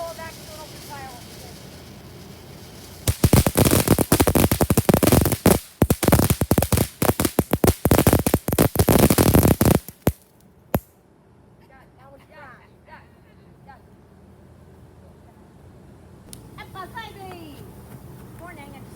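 A 2025 fireworks show with a rapid barrage of loud crackling bursts lasting several seconds, then quieter scattered pops, with people talking faintly afterward.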